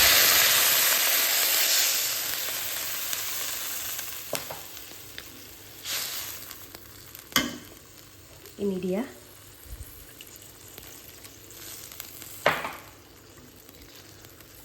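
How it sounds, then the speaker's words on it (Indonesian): Cauliflower stir-fried with added water in a hot pan, a soft continuous sizzle fading over time, with a few sharp utensil knocks and scrapes, while someone speaks briefly. "Kita gongseng lagi."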